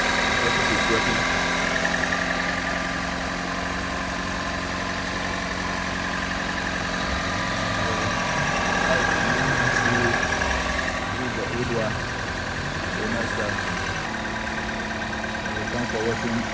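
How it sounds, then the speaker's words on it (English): A Toyota Corolla engine idles steadily nearby, a continuous even hum with faint vibration; someone talks briefly over it. "Engine is very stable now."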